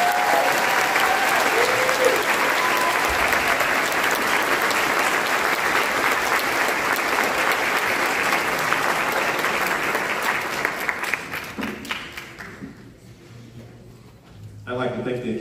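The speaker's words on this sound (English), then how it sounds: "Please give him another round of applause." Applause from the audience at a high school county band concert, loud sustained clapping for about twelve seconds that then thins out and fades as scattered claps and a voice follow.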